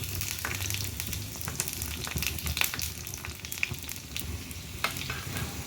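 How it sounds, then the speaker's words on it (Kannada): Mustard seeds and crushed garlic sizzling in hot oil for a Malnad-style tambuli tempering, a dense continuous crackle and hiss peppered with sharp popping bursts throughout, close up with no voices. "ಎಣ್ಣೆ ಕಾದ್ಮೇಲೆ ಸ್ವಲ್ಪ ಸಾಸಿವೆ, ಜಜ್ಜಿಟ್ಕೊಂಡಿರುವಂಥ ಬೆಳ್ಳುಳ್ಳಿ,"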